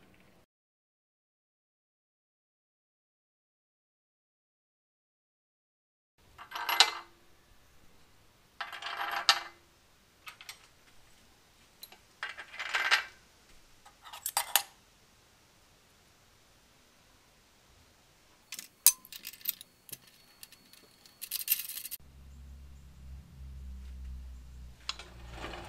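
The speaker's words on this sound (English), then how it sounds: "Now all we need to do is bolt our vise" A bench vise being bolted onto a welded mount with bolts and nuts: scattered metallic clinks and rattles, brief bursts of rustling, and a low rumble near the end.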